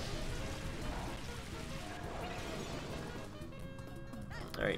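Rain falls steadily in the Pokémon Colosseum video game during a battle, a continuous broadband patter filling the scene at moderate level, with faint game tones and a brief louder burst near the end.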